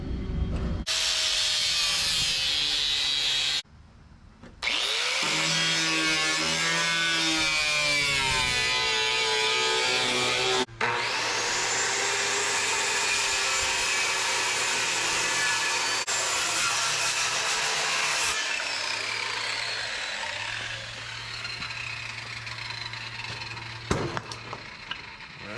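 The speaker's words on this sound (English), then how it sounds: "I think I'm going to cut all this apart, maybe cut it off here" Metal fender on a 1952 Dodge being cut apart with a power tool, a loud, steady grinding and sawing whine that runs almost continuously, with a brief pause early on and shifts in pitch as the cut goes on.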